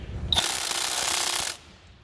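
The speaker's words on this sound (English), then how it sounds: "what I'm going to do first is remove these 2 bolts that go to the pipe." A power tool whirs for about a second as it loosens bolts on the EGR valve of a Ford 6.7 engine. The close, loud mechanical burst cuts off abruptly.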